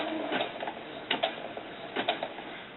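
A sewing machine stitches a zigzag seam on a small doll sun dress, sounding as uneven bursts of rapid mechanical ticking that stop and start, close by, with no talking.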